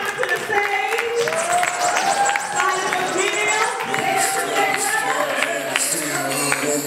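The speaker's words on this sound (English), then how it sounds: "Coming to the stage, start clapping" Sustained audience clapping and cheering at a live stage event, dense and fairly close, with amplified voices and music carrying over the applause throughout.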